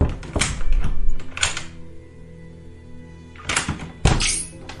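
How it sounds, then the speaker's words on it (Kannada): A main door lock is worked open: a few heavy metallic thunks and clacks in two bursts, separated by a quiet pause. "ಆ ಮೇನ್ ಡೋರ್ ಲಾಕ್ನ ತೆಗಿತಾಳೆ"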